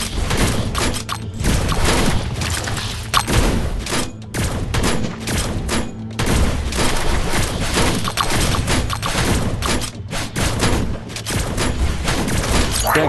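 Continuous gunfire in the mobile video game Age of Kita, a dense, loud battle mix of overlapping shots and thuds running throughout with no pauses.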